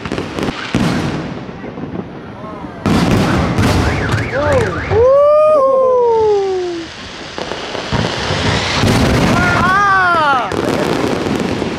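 Chinese New Year fireworks explode nearby in a loud, dense stream of crackling bursts. Rising and falling whistling shrieks cut through the crackle, which fades briefly and then returns with more crackles and whistles.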